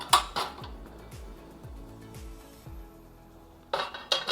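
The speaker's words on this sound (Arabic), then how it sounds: "بنجيب مقلايه تبعنا، مقلايه تكون ظريفه، بنحط لها نقطه زيت بس" A frying pan set down and handled on a stovetop, sharp metallic clanks at the start and end with a low ringing resonance and soft knocks in between.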